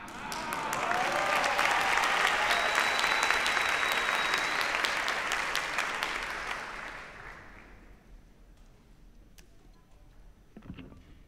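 An audience at a live concert at the CCK applauds loudly with dense clapping that swells, holds, then fades away over several seconds, leaving a few scattered claps at the end.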